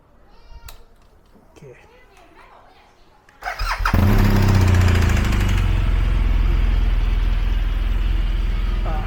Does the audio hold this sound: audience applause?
no